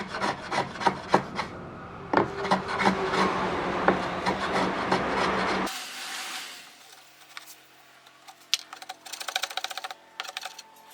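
A Japanese kiwa-kanna hand plane shaves a wooden tenon in a quick series of close, rasping strokes that rise and fall rhythmically, then drop to softer, scattered scraping and light taps.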